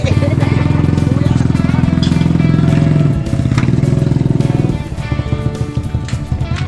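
A Click V2 motorcycle engine idles loudly and close through a fiber exhaust pipe, a steady rumbling putter that drops in intensity partway through.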